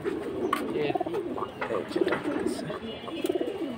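Pigeons cooing in a loft of silver, bezi and pankhi breeds, a steady run of soft throaty coos close by with faint voices underneath.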